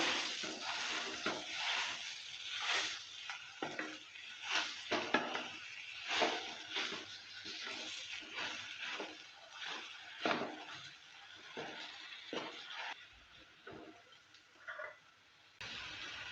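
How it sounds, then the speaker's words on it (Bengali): Mashed taro being stirred in a pan for a taro bharta: quiet, repeated scraping and soft sizzling strokes in an irregular rhythm, faint and close, with no talking. "কচু মাখাটা দেওয়ার পর ভালো করে আবারও নেড়ে নিচ্ছে"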